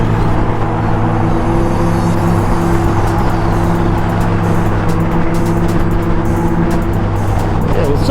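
A Can-Am Spyder three-wheeled motorcycle runs with a steady, loud engine and exhaust drone on a group night ride. The sound is continuous and close, with faint talk underneath.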